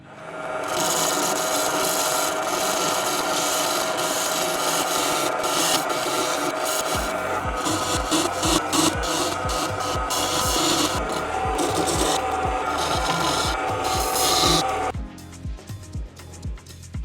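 Steady, harsh rasping of a blade lightly shaving down a wood and epoxy bowl, continuous for a long stretch with rhythmic strokes in the later half.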